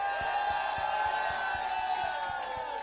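Crowd cheering and clapping for a drag act at a Drag Idol talent show, a steady wash of whoops and applause with rhythmic claps throughout, no speech.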